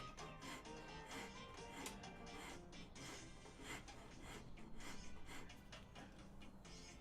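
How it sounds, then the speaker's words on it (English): A rasp files a bump off a Maori wood carving, giving steady, repeated scraping strokes, close and quiet, with no talking. "I'll just use a rasp."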